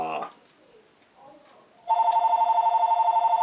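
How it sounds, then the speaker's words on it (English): Someone talks briefly, then a telephone starts ringing with a steady, rapidly pulsing electronic trill that continues to the end, loud and close. "Hang on, the phone's ringing."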